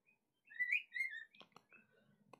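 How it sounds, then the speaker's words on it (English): Pet birds chirp under a cover indoors, a few clear whistled tweets followed by softer scattered chirps and clicks, close and fairly quiet with no talk. "I hope y'all could hear me over my birds"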